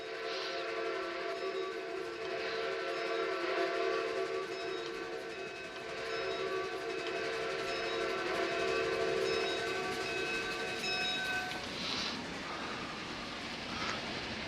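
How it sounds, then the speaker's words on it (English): A simulated steam locomotive whistle from the CP H1 Empress 2816 in the Trainz game sounds in long, sustained blasts over a rolling train rumble, with brief sharper accents near the end. "We'll do one with the actual whistle,"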